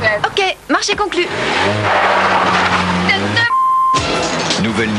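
A new 1992 Nissan Micra small car drives past in a French television advert, its engine hum and brief tire noise mixed under steady voices and music, with a short quiet gap before talk resumes.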